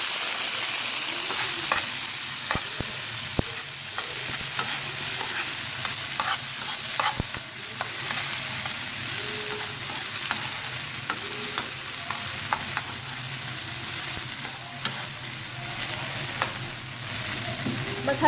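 Tomato and green chili paste frying with mustard seeds for a bottle gourd raita, giving a continuous close sizzle with occasional stirring scrapes and small pops.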